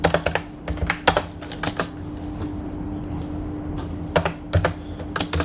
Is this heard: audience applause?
no